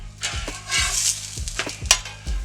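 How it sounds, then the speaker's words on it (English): Rye bread toasting on a steel griddle, with a soft steady sizzle under repeated scraping and tapping of a metal spatula as the slices are flipped, close and moderately loud, with no talk. "I got my bread over here toasting away"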